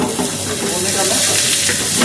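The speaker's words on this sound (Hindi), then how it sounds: "ब्राउन नहीं होगा तब तक भूनना पड़ेगा" Green chili and ginger sizzle and fry loudly in a hot pan, a steady close hiss with stirring, continuous and alone throughout.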